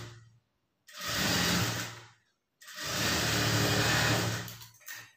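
An electric sewing machine stitches a quarter-inch hem seam on a blouse, running in two separate bursts of close, steady whirring, each starting and stopping abruptly with brief silence between them.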